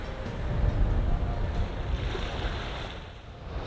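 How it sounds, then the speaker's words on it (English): A boat cruises out of Kinsale Harbour onto open sea, with a steady rush of waves and water against the hull, wind noise buffeting the microphone throughout. "Cruising out from Kinsale Harbour,"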